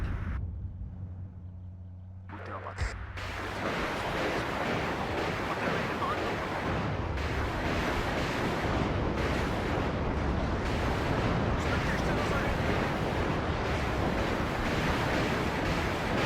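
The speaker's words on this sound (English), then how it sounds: "We'll have artillery dropping on that shortly." In the WARNO war game, artillery fire lands as a sustained, roaring broadband rumble that swells after a brief quiet start and keeps booming steadily throughout.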